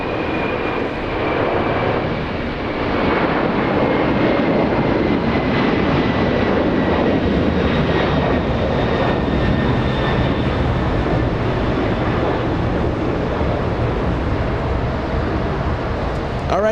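A Korean Air Boeing 747 taxis along taxiway Alpha at Los Angeles International Airport, its engines giving a continuous, fairly loud rumbling drone with a faint high whine drifting slightly in pitch.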